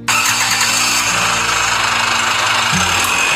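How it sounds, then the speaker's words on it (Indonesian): A car engine cranks and catches, then settles into a loud, close, steady idle with a slight shift in pitch near the end. "dia menghidupkan mesin mobilnya dan berlalu pergi."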